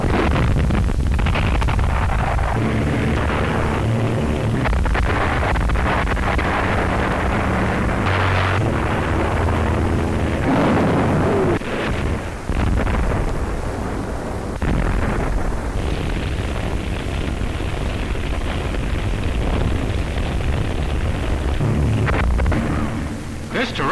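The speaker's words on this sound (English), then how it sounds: "This terrific bombardment continued for days" Heavy bombardment pounds Shanghai in an old newsreel, a dense, rumbling barrage of booming blasts and roaring noise with wind-like hiss, loud and continuous, with faint voices now and then.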